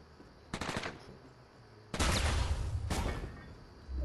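Bursts of gunfire in the video game Fortnite: a short volley, then a longer sustained stretch of rapid shots, loud and close, with no talk.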